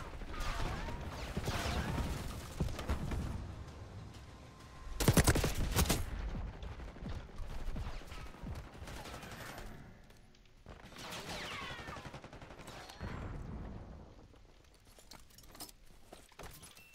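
Black Ops 6 beta gunfire comes in repeated bursts of automatic shots with a few loud, close blasts between them, set among scattered clatter and movement sounds from the match.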